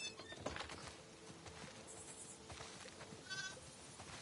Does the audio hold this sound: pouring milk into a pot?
no